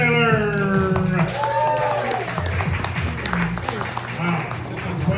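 Crowd applause for a comedian at an open mic night, clapping and cheers rising under a host's sung and spoken voice, busy and lively, fading slightly toward the end.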